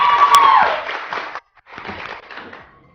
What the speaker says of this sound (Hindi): इन तीनों के लिए बहुत सारी तालियां